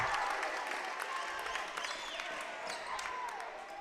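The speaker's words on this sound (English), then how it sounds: "Fans still into it. They're still cheering on their team." Fans at a high school boys basketball game between Crosby-Ironton and Pine City cheer and clap from the gym stands, a fairly faint crowd wash with sneaker squeaks and scattered claps throughout.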